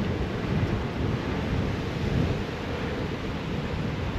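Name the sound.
strong wind at the beach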